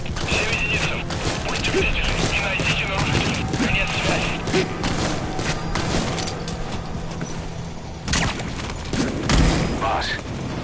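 Game gunfire in Metal Gear Solid V: The Phantom Pain on PS4, fired through a worn-out suppressor that no longer quiets the gun, giving a dense run of loud shots and bangs that stays busy throughout, with a heavy burst near the end.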